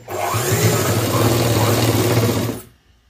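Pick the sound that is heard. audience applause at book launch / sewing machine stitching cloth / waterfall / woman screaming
sewing machine stitching cloth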